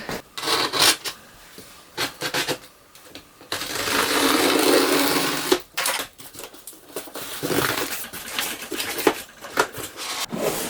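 Unboxing a large box holding a Cricut Bright 360 LED table lamp brings close scraping, rustling and tearing of cardboard and packing material, with a long continuous rub in the middle and scattered sharper crinkles, no speech.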